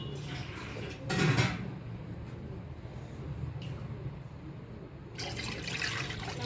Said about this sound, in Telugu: నేను ఈ గిన్నెలోకి వాటర్ వేస్తున్నాను